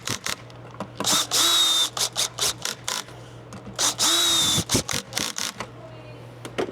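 A power drill drives screws into a ski to mount bindings in a crisscross pattern, with repeated short whirring bursts and brief pauses between them, close and clear, some runs slowing as they finish.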